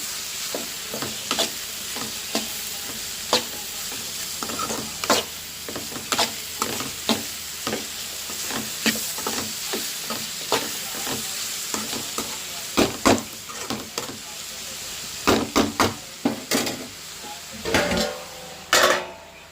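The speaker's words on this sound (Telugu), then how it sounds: "క్యాబేజ్ అయితే ఫ్రై అయిందో లేదో చూసేద్దాం అనమాట ఇంక ఈ విధంగా అయితే మాత్రం ఎగ్ అయితే ఫ్రై ఆకొచ్చింది" Cabbage and egg fry in a pan while a spatula stirs and scrapes repeatedly, giving a steady sizzle broken by many close, sharp clinks and scrapes, busier toward the end.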